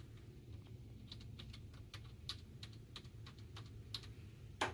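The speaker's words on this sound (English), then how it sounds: "We can type in the artist and we can type in the song also." Typing on a computer keyboard, a quiet series of close, sharp key clicks in an uneven rhythm over a low background hum, with no talk.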